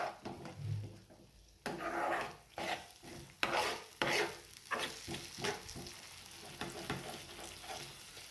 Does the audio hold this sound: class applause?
no